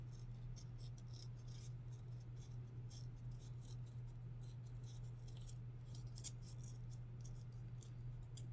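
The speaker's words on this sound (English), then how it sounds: "So I'm just gonna rip as straight as I can." Paper ripped by hand as straight as possible for an industrial grunge craft tag, a faint, steady crackling tear running throughout over a low constant hum, with no talking.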